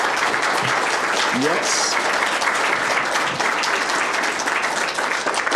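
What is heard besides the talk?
audience applause at school board meeting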